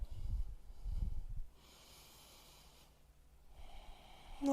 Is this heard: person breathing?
yes